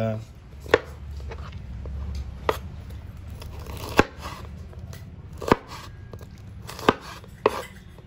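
A knife cuts bitter gourd on a board, with sharp, separate chops about every second or so against a low, steady background rumble. No one speaks.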